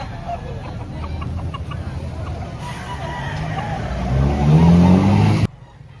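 A hen clucks in short repeated bursts at a busy chicken market in Lipa, Batangas, close by, under passing traffic noise and nearby chatter.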